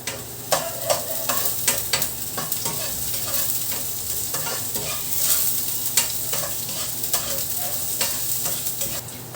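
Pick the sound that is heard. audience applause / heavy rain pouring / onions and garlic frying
onions and garlic frying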